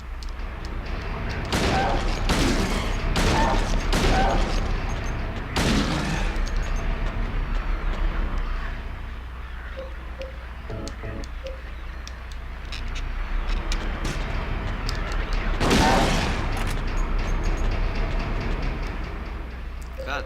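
Heavy rifle shots in the survival horror game Silent Hill 2, set in the Otherworld prison, come as a rapid cluster of loud booms early on and another blast later, over a low rumbling ambience.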